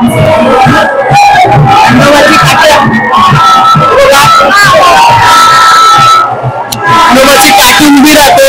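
A large outdoor crowd at the Raibadevi yatra festival in Rave, Maharashtra cheers and shouts loudly and continuously, with whoops and a dense babble of voices throughout.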